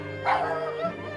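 A Dalmatian puppy barks an alarm in an animated tale, a short high yip followed by a softer whimpering bark, close and clear over a quiet music bed.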